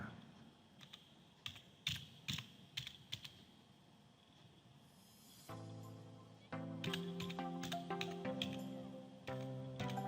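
Computer keyboard keys clatter in quick irregular bursts, close and fairly quiet, as a family card number is typed in, with a denser run of taps near the end.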